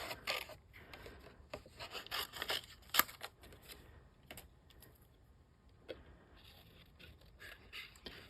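Scissors cut through a paper card during card making, giving a faint, close run of soft snips and rustles with irregular gaps and a few sharper clicks.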